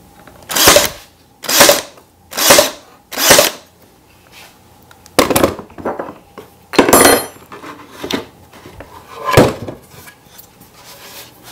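A pin nailer fires brads to fix bead molding onto a drawer panel, giving four evenly spaced sharp, close, loud shots followed by several more irregular pops and knocks.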